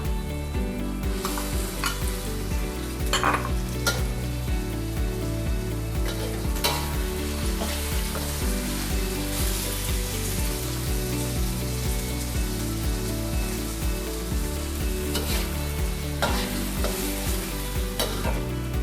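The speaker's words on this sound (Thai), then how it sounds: "เดี๋ยวเราจะใส่หมึกไข่ลงไปเลยค่ะ" Squid with roe stir-frying in a hot pan, a continuous loud sizzle with repeated scraping and clinking of the spatula against the pan, no voices.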